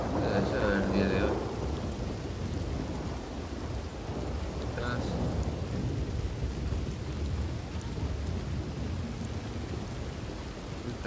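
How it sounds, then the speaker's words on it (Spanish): Heavy rain and thunder in the video game RedM around the town of Blackwater, with a loud rumbling thunderclap at the start over a constant dense downpour that continues steadily throughout. "Está cayendo bastante lluvia, la verdad."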